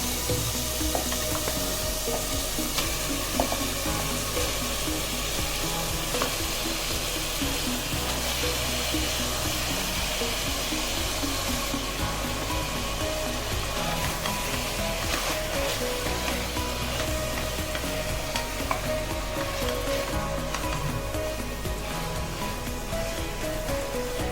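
Half a kilo of mutton sizzles and fries in a pan for a traditional coconut rice and curry, a loud, steady hiss that runs unbroken throughout.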